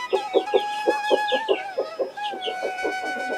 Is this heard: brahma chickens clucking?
yes